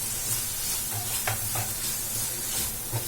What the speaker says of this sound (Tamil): அது வரைக்கும் லைட்டா வதக்கிக்கலாம் இந்த வெங்காயத்தை